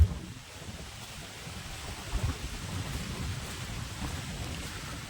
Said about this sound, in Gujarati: આ બધો વરસાદ આવે જો